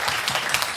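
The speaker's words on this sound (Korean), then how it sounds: "우리 부감 집사님께도 환영의 박수 한 번만 올려드리겠습니다." Brief burst of welcoming applause from a church young adults' congregation, a dense wash of many hands clapping together at moderate volume.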